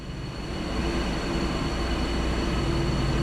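A train in Train Sim World, with a DB BR 218 locomotive in the scene, rumbles past as a steady, loud rolling roar with no talk.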